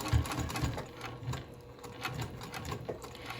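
A sewing machine back stitches along fabric, a quick mechanical chattering run with a few heavier thumps, close and moderately quiet, without speech.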